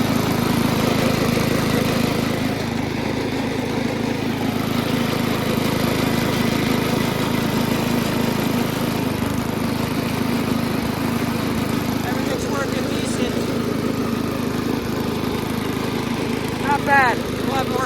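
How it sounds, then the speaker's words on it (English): A new 7 hp Briggs and Stratton engine on a Penncraft Premium lawn tractor runs steadily for the whole stretch, a constant nearby mechanical drone with a few small rattles near the end. "This new engine has a lot of power versus the Tecumseh."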